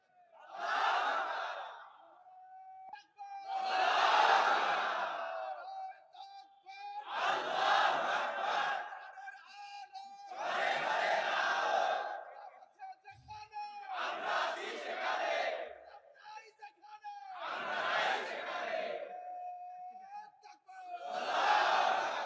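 A large crowd at a religious gathering shouts slogans in unison, seven loud chanted bursts at a steady rhythm with short pauses between them and a faint voice leading in the gaps.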